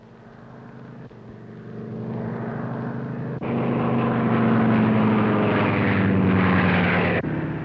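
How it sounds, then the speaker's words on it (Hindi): A propeller airplane circles overhead in a classic Hindi film, its engine drone swelling louder and steadier as it passes near, then dropping off abruptly. "हवाई जहाज चक्कर क्यों काट रहा है?"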